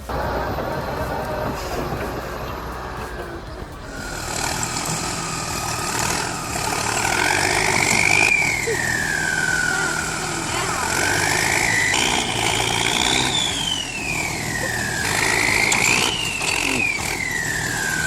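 Engines of an Oliver tractor and a 5-ton excavator pulling out a tree stump, a steady mid-pitched rumble with rising and falling revs and hydraulic whine, loud and close throughout.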